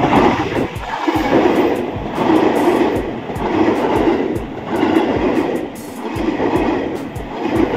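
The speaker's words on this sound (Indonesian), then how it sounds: "KRL Komuterland TM6000 series teman-teman dari arah stasiun Kranji." A KRL Commuter Line TM6000 series electric train, ex-Tokyo Metro 6000, passes near Kranji station in Indonesia, loud and close, with a rhythmic clatter of wheels over rail joints swelling and easing in repeated beats over a continuous rumble.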